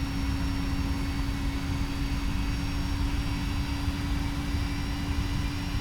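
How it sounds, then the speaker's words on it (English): Steady cabin drone of an Aer Lingus airliner on final approach in the X-Plane 10 flight simulator, a constant engine hum with a steady tone, loud and unbroken throughout. "watch the plane land itself"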